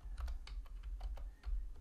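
Several quick, light keystrokes on a computer keyboard enter a complex impedance value into an online AC circuit calculator, soft and close with no talk.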